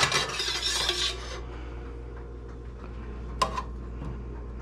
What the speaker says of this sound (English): Now we're going to add our asparagus.